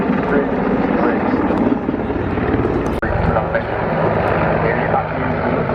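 An aircraft performs a display at the RAF Cosford Air Show, its engine droning steadily at a distance, with a commentator's voice over the public address system throughout.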